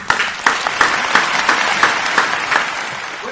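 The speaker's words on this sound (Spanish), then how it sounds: "Este es el gran Simon, un aplauso, señores." Steady applause from a crowd, with sharper bursts of clapping rising every half second or so over a continuous wash of hands.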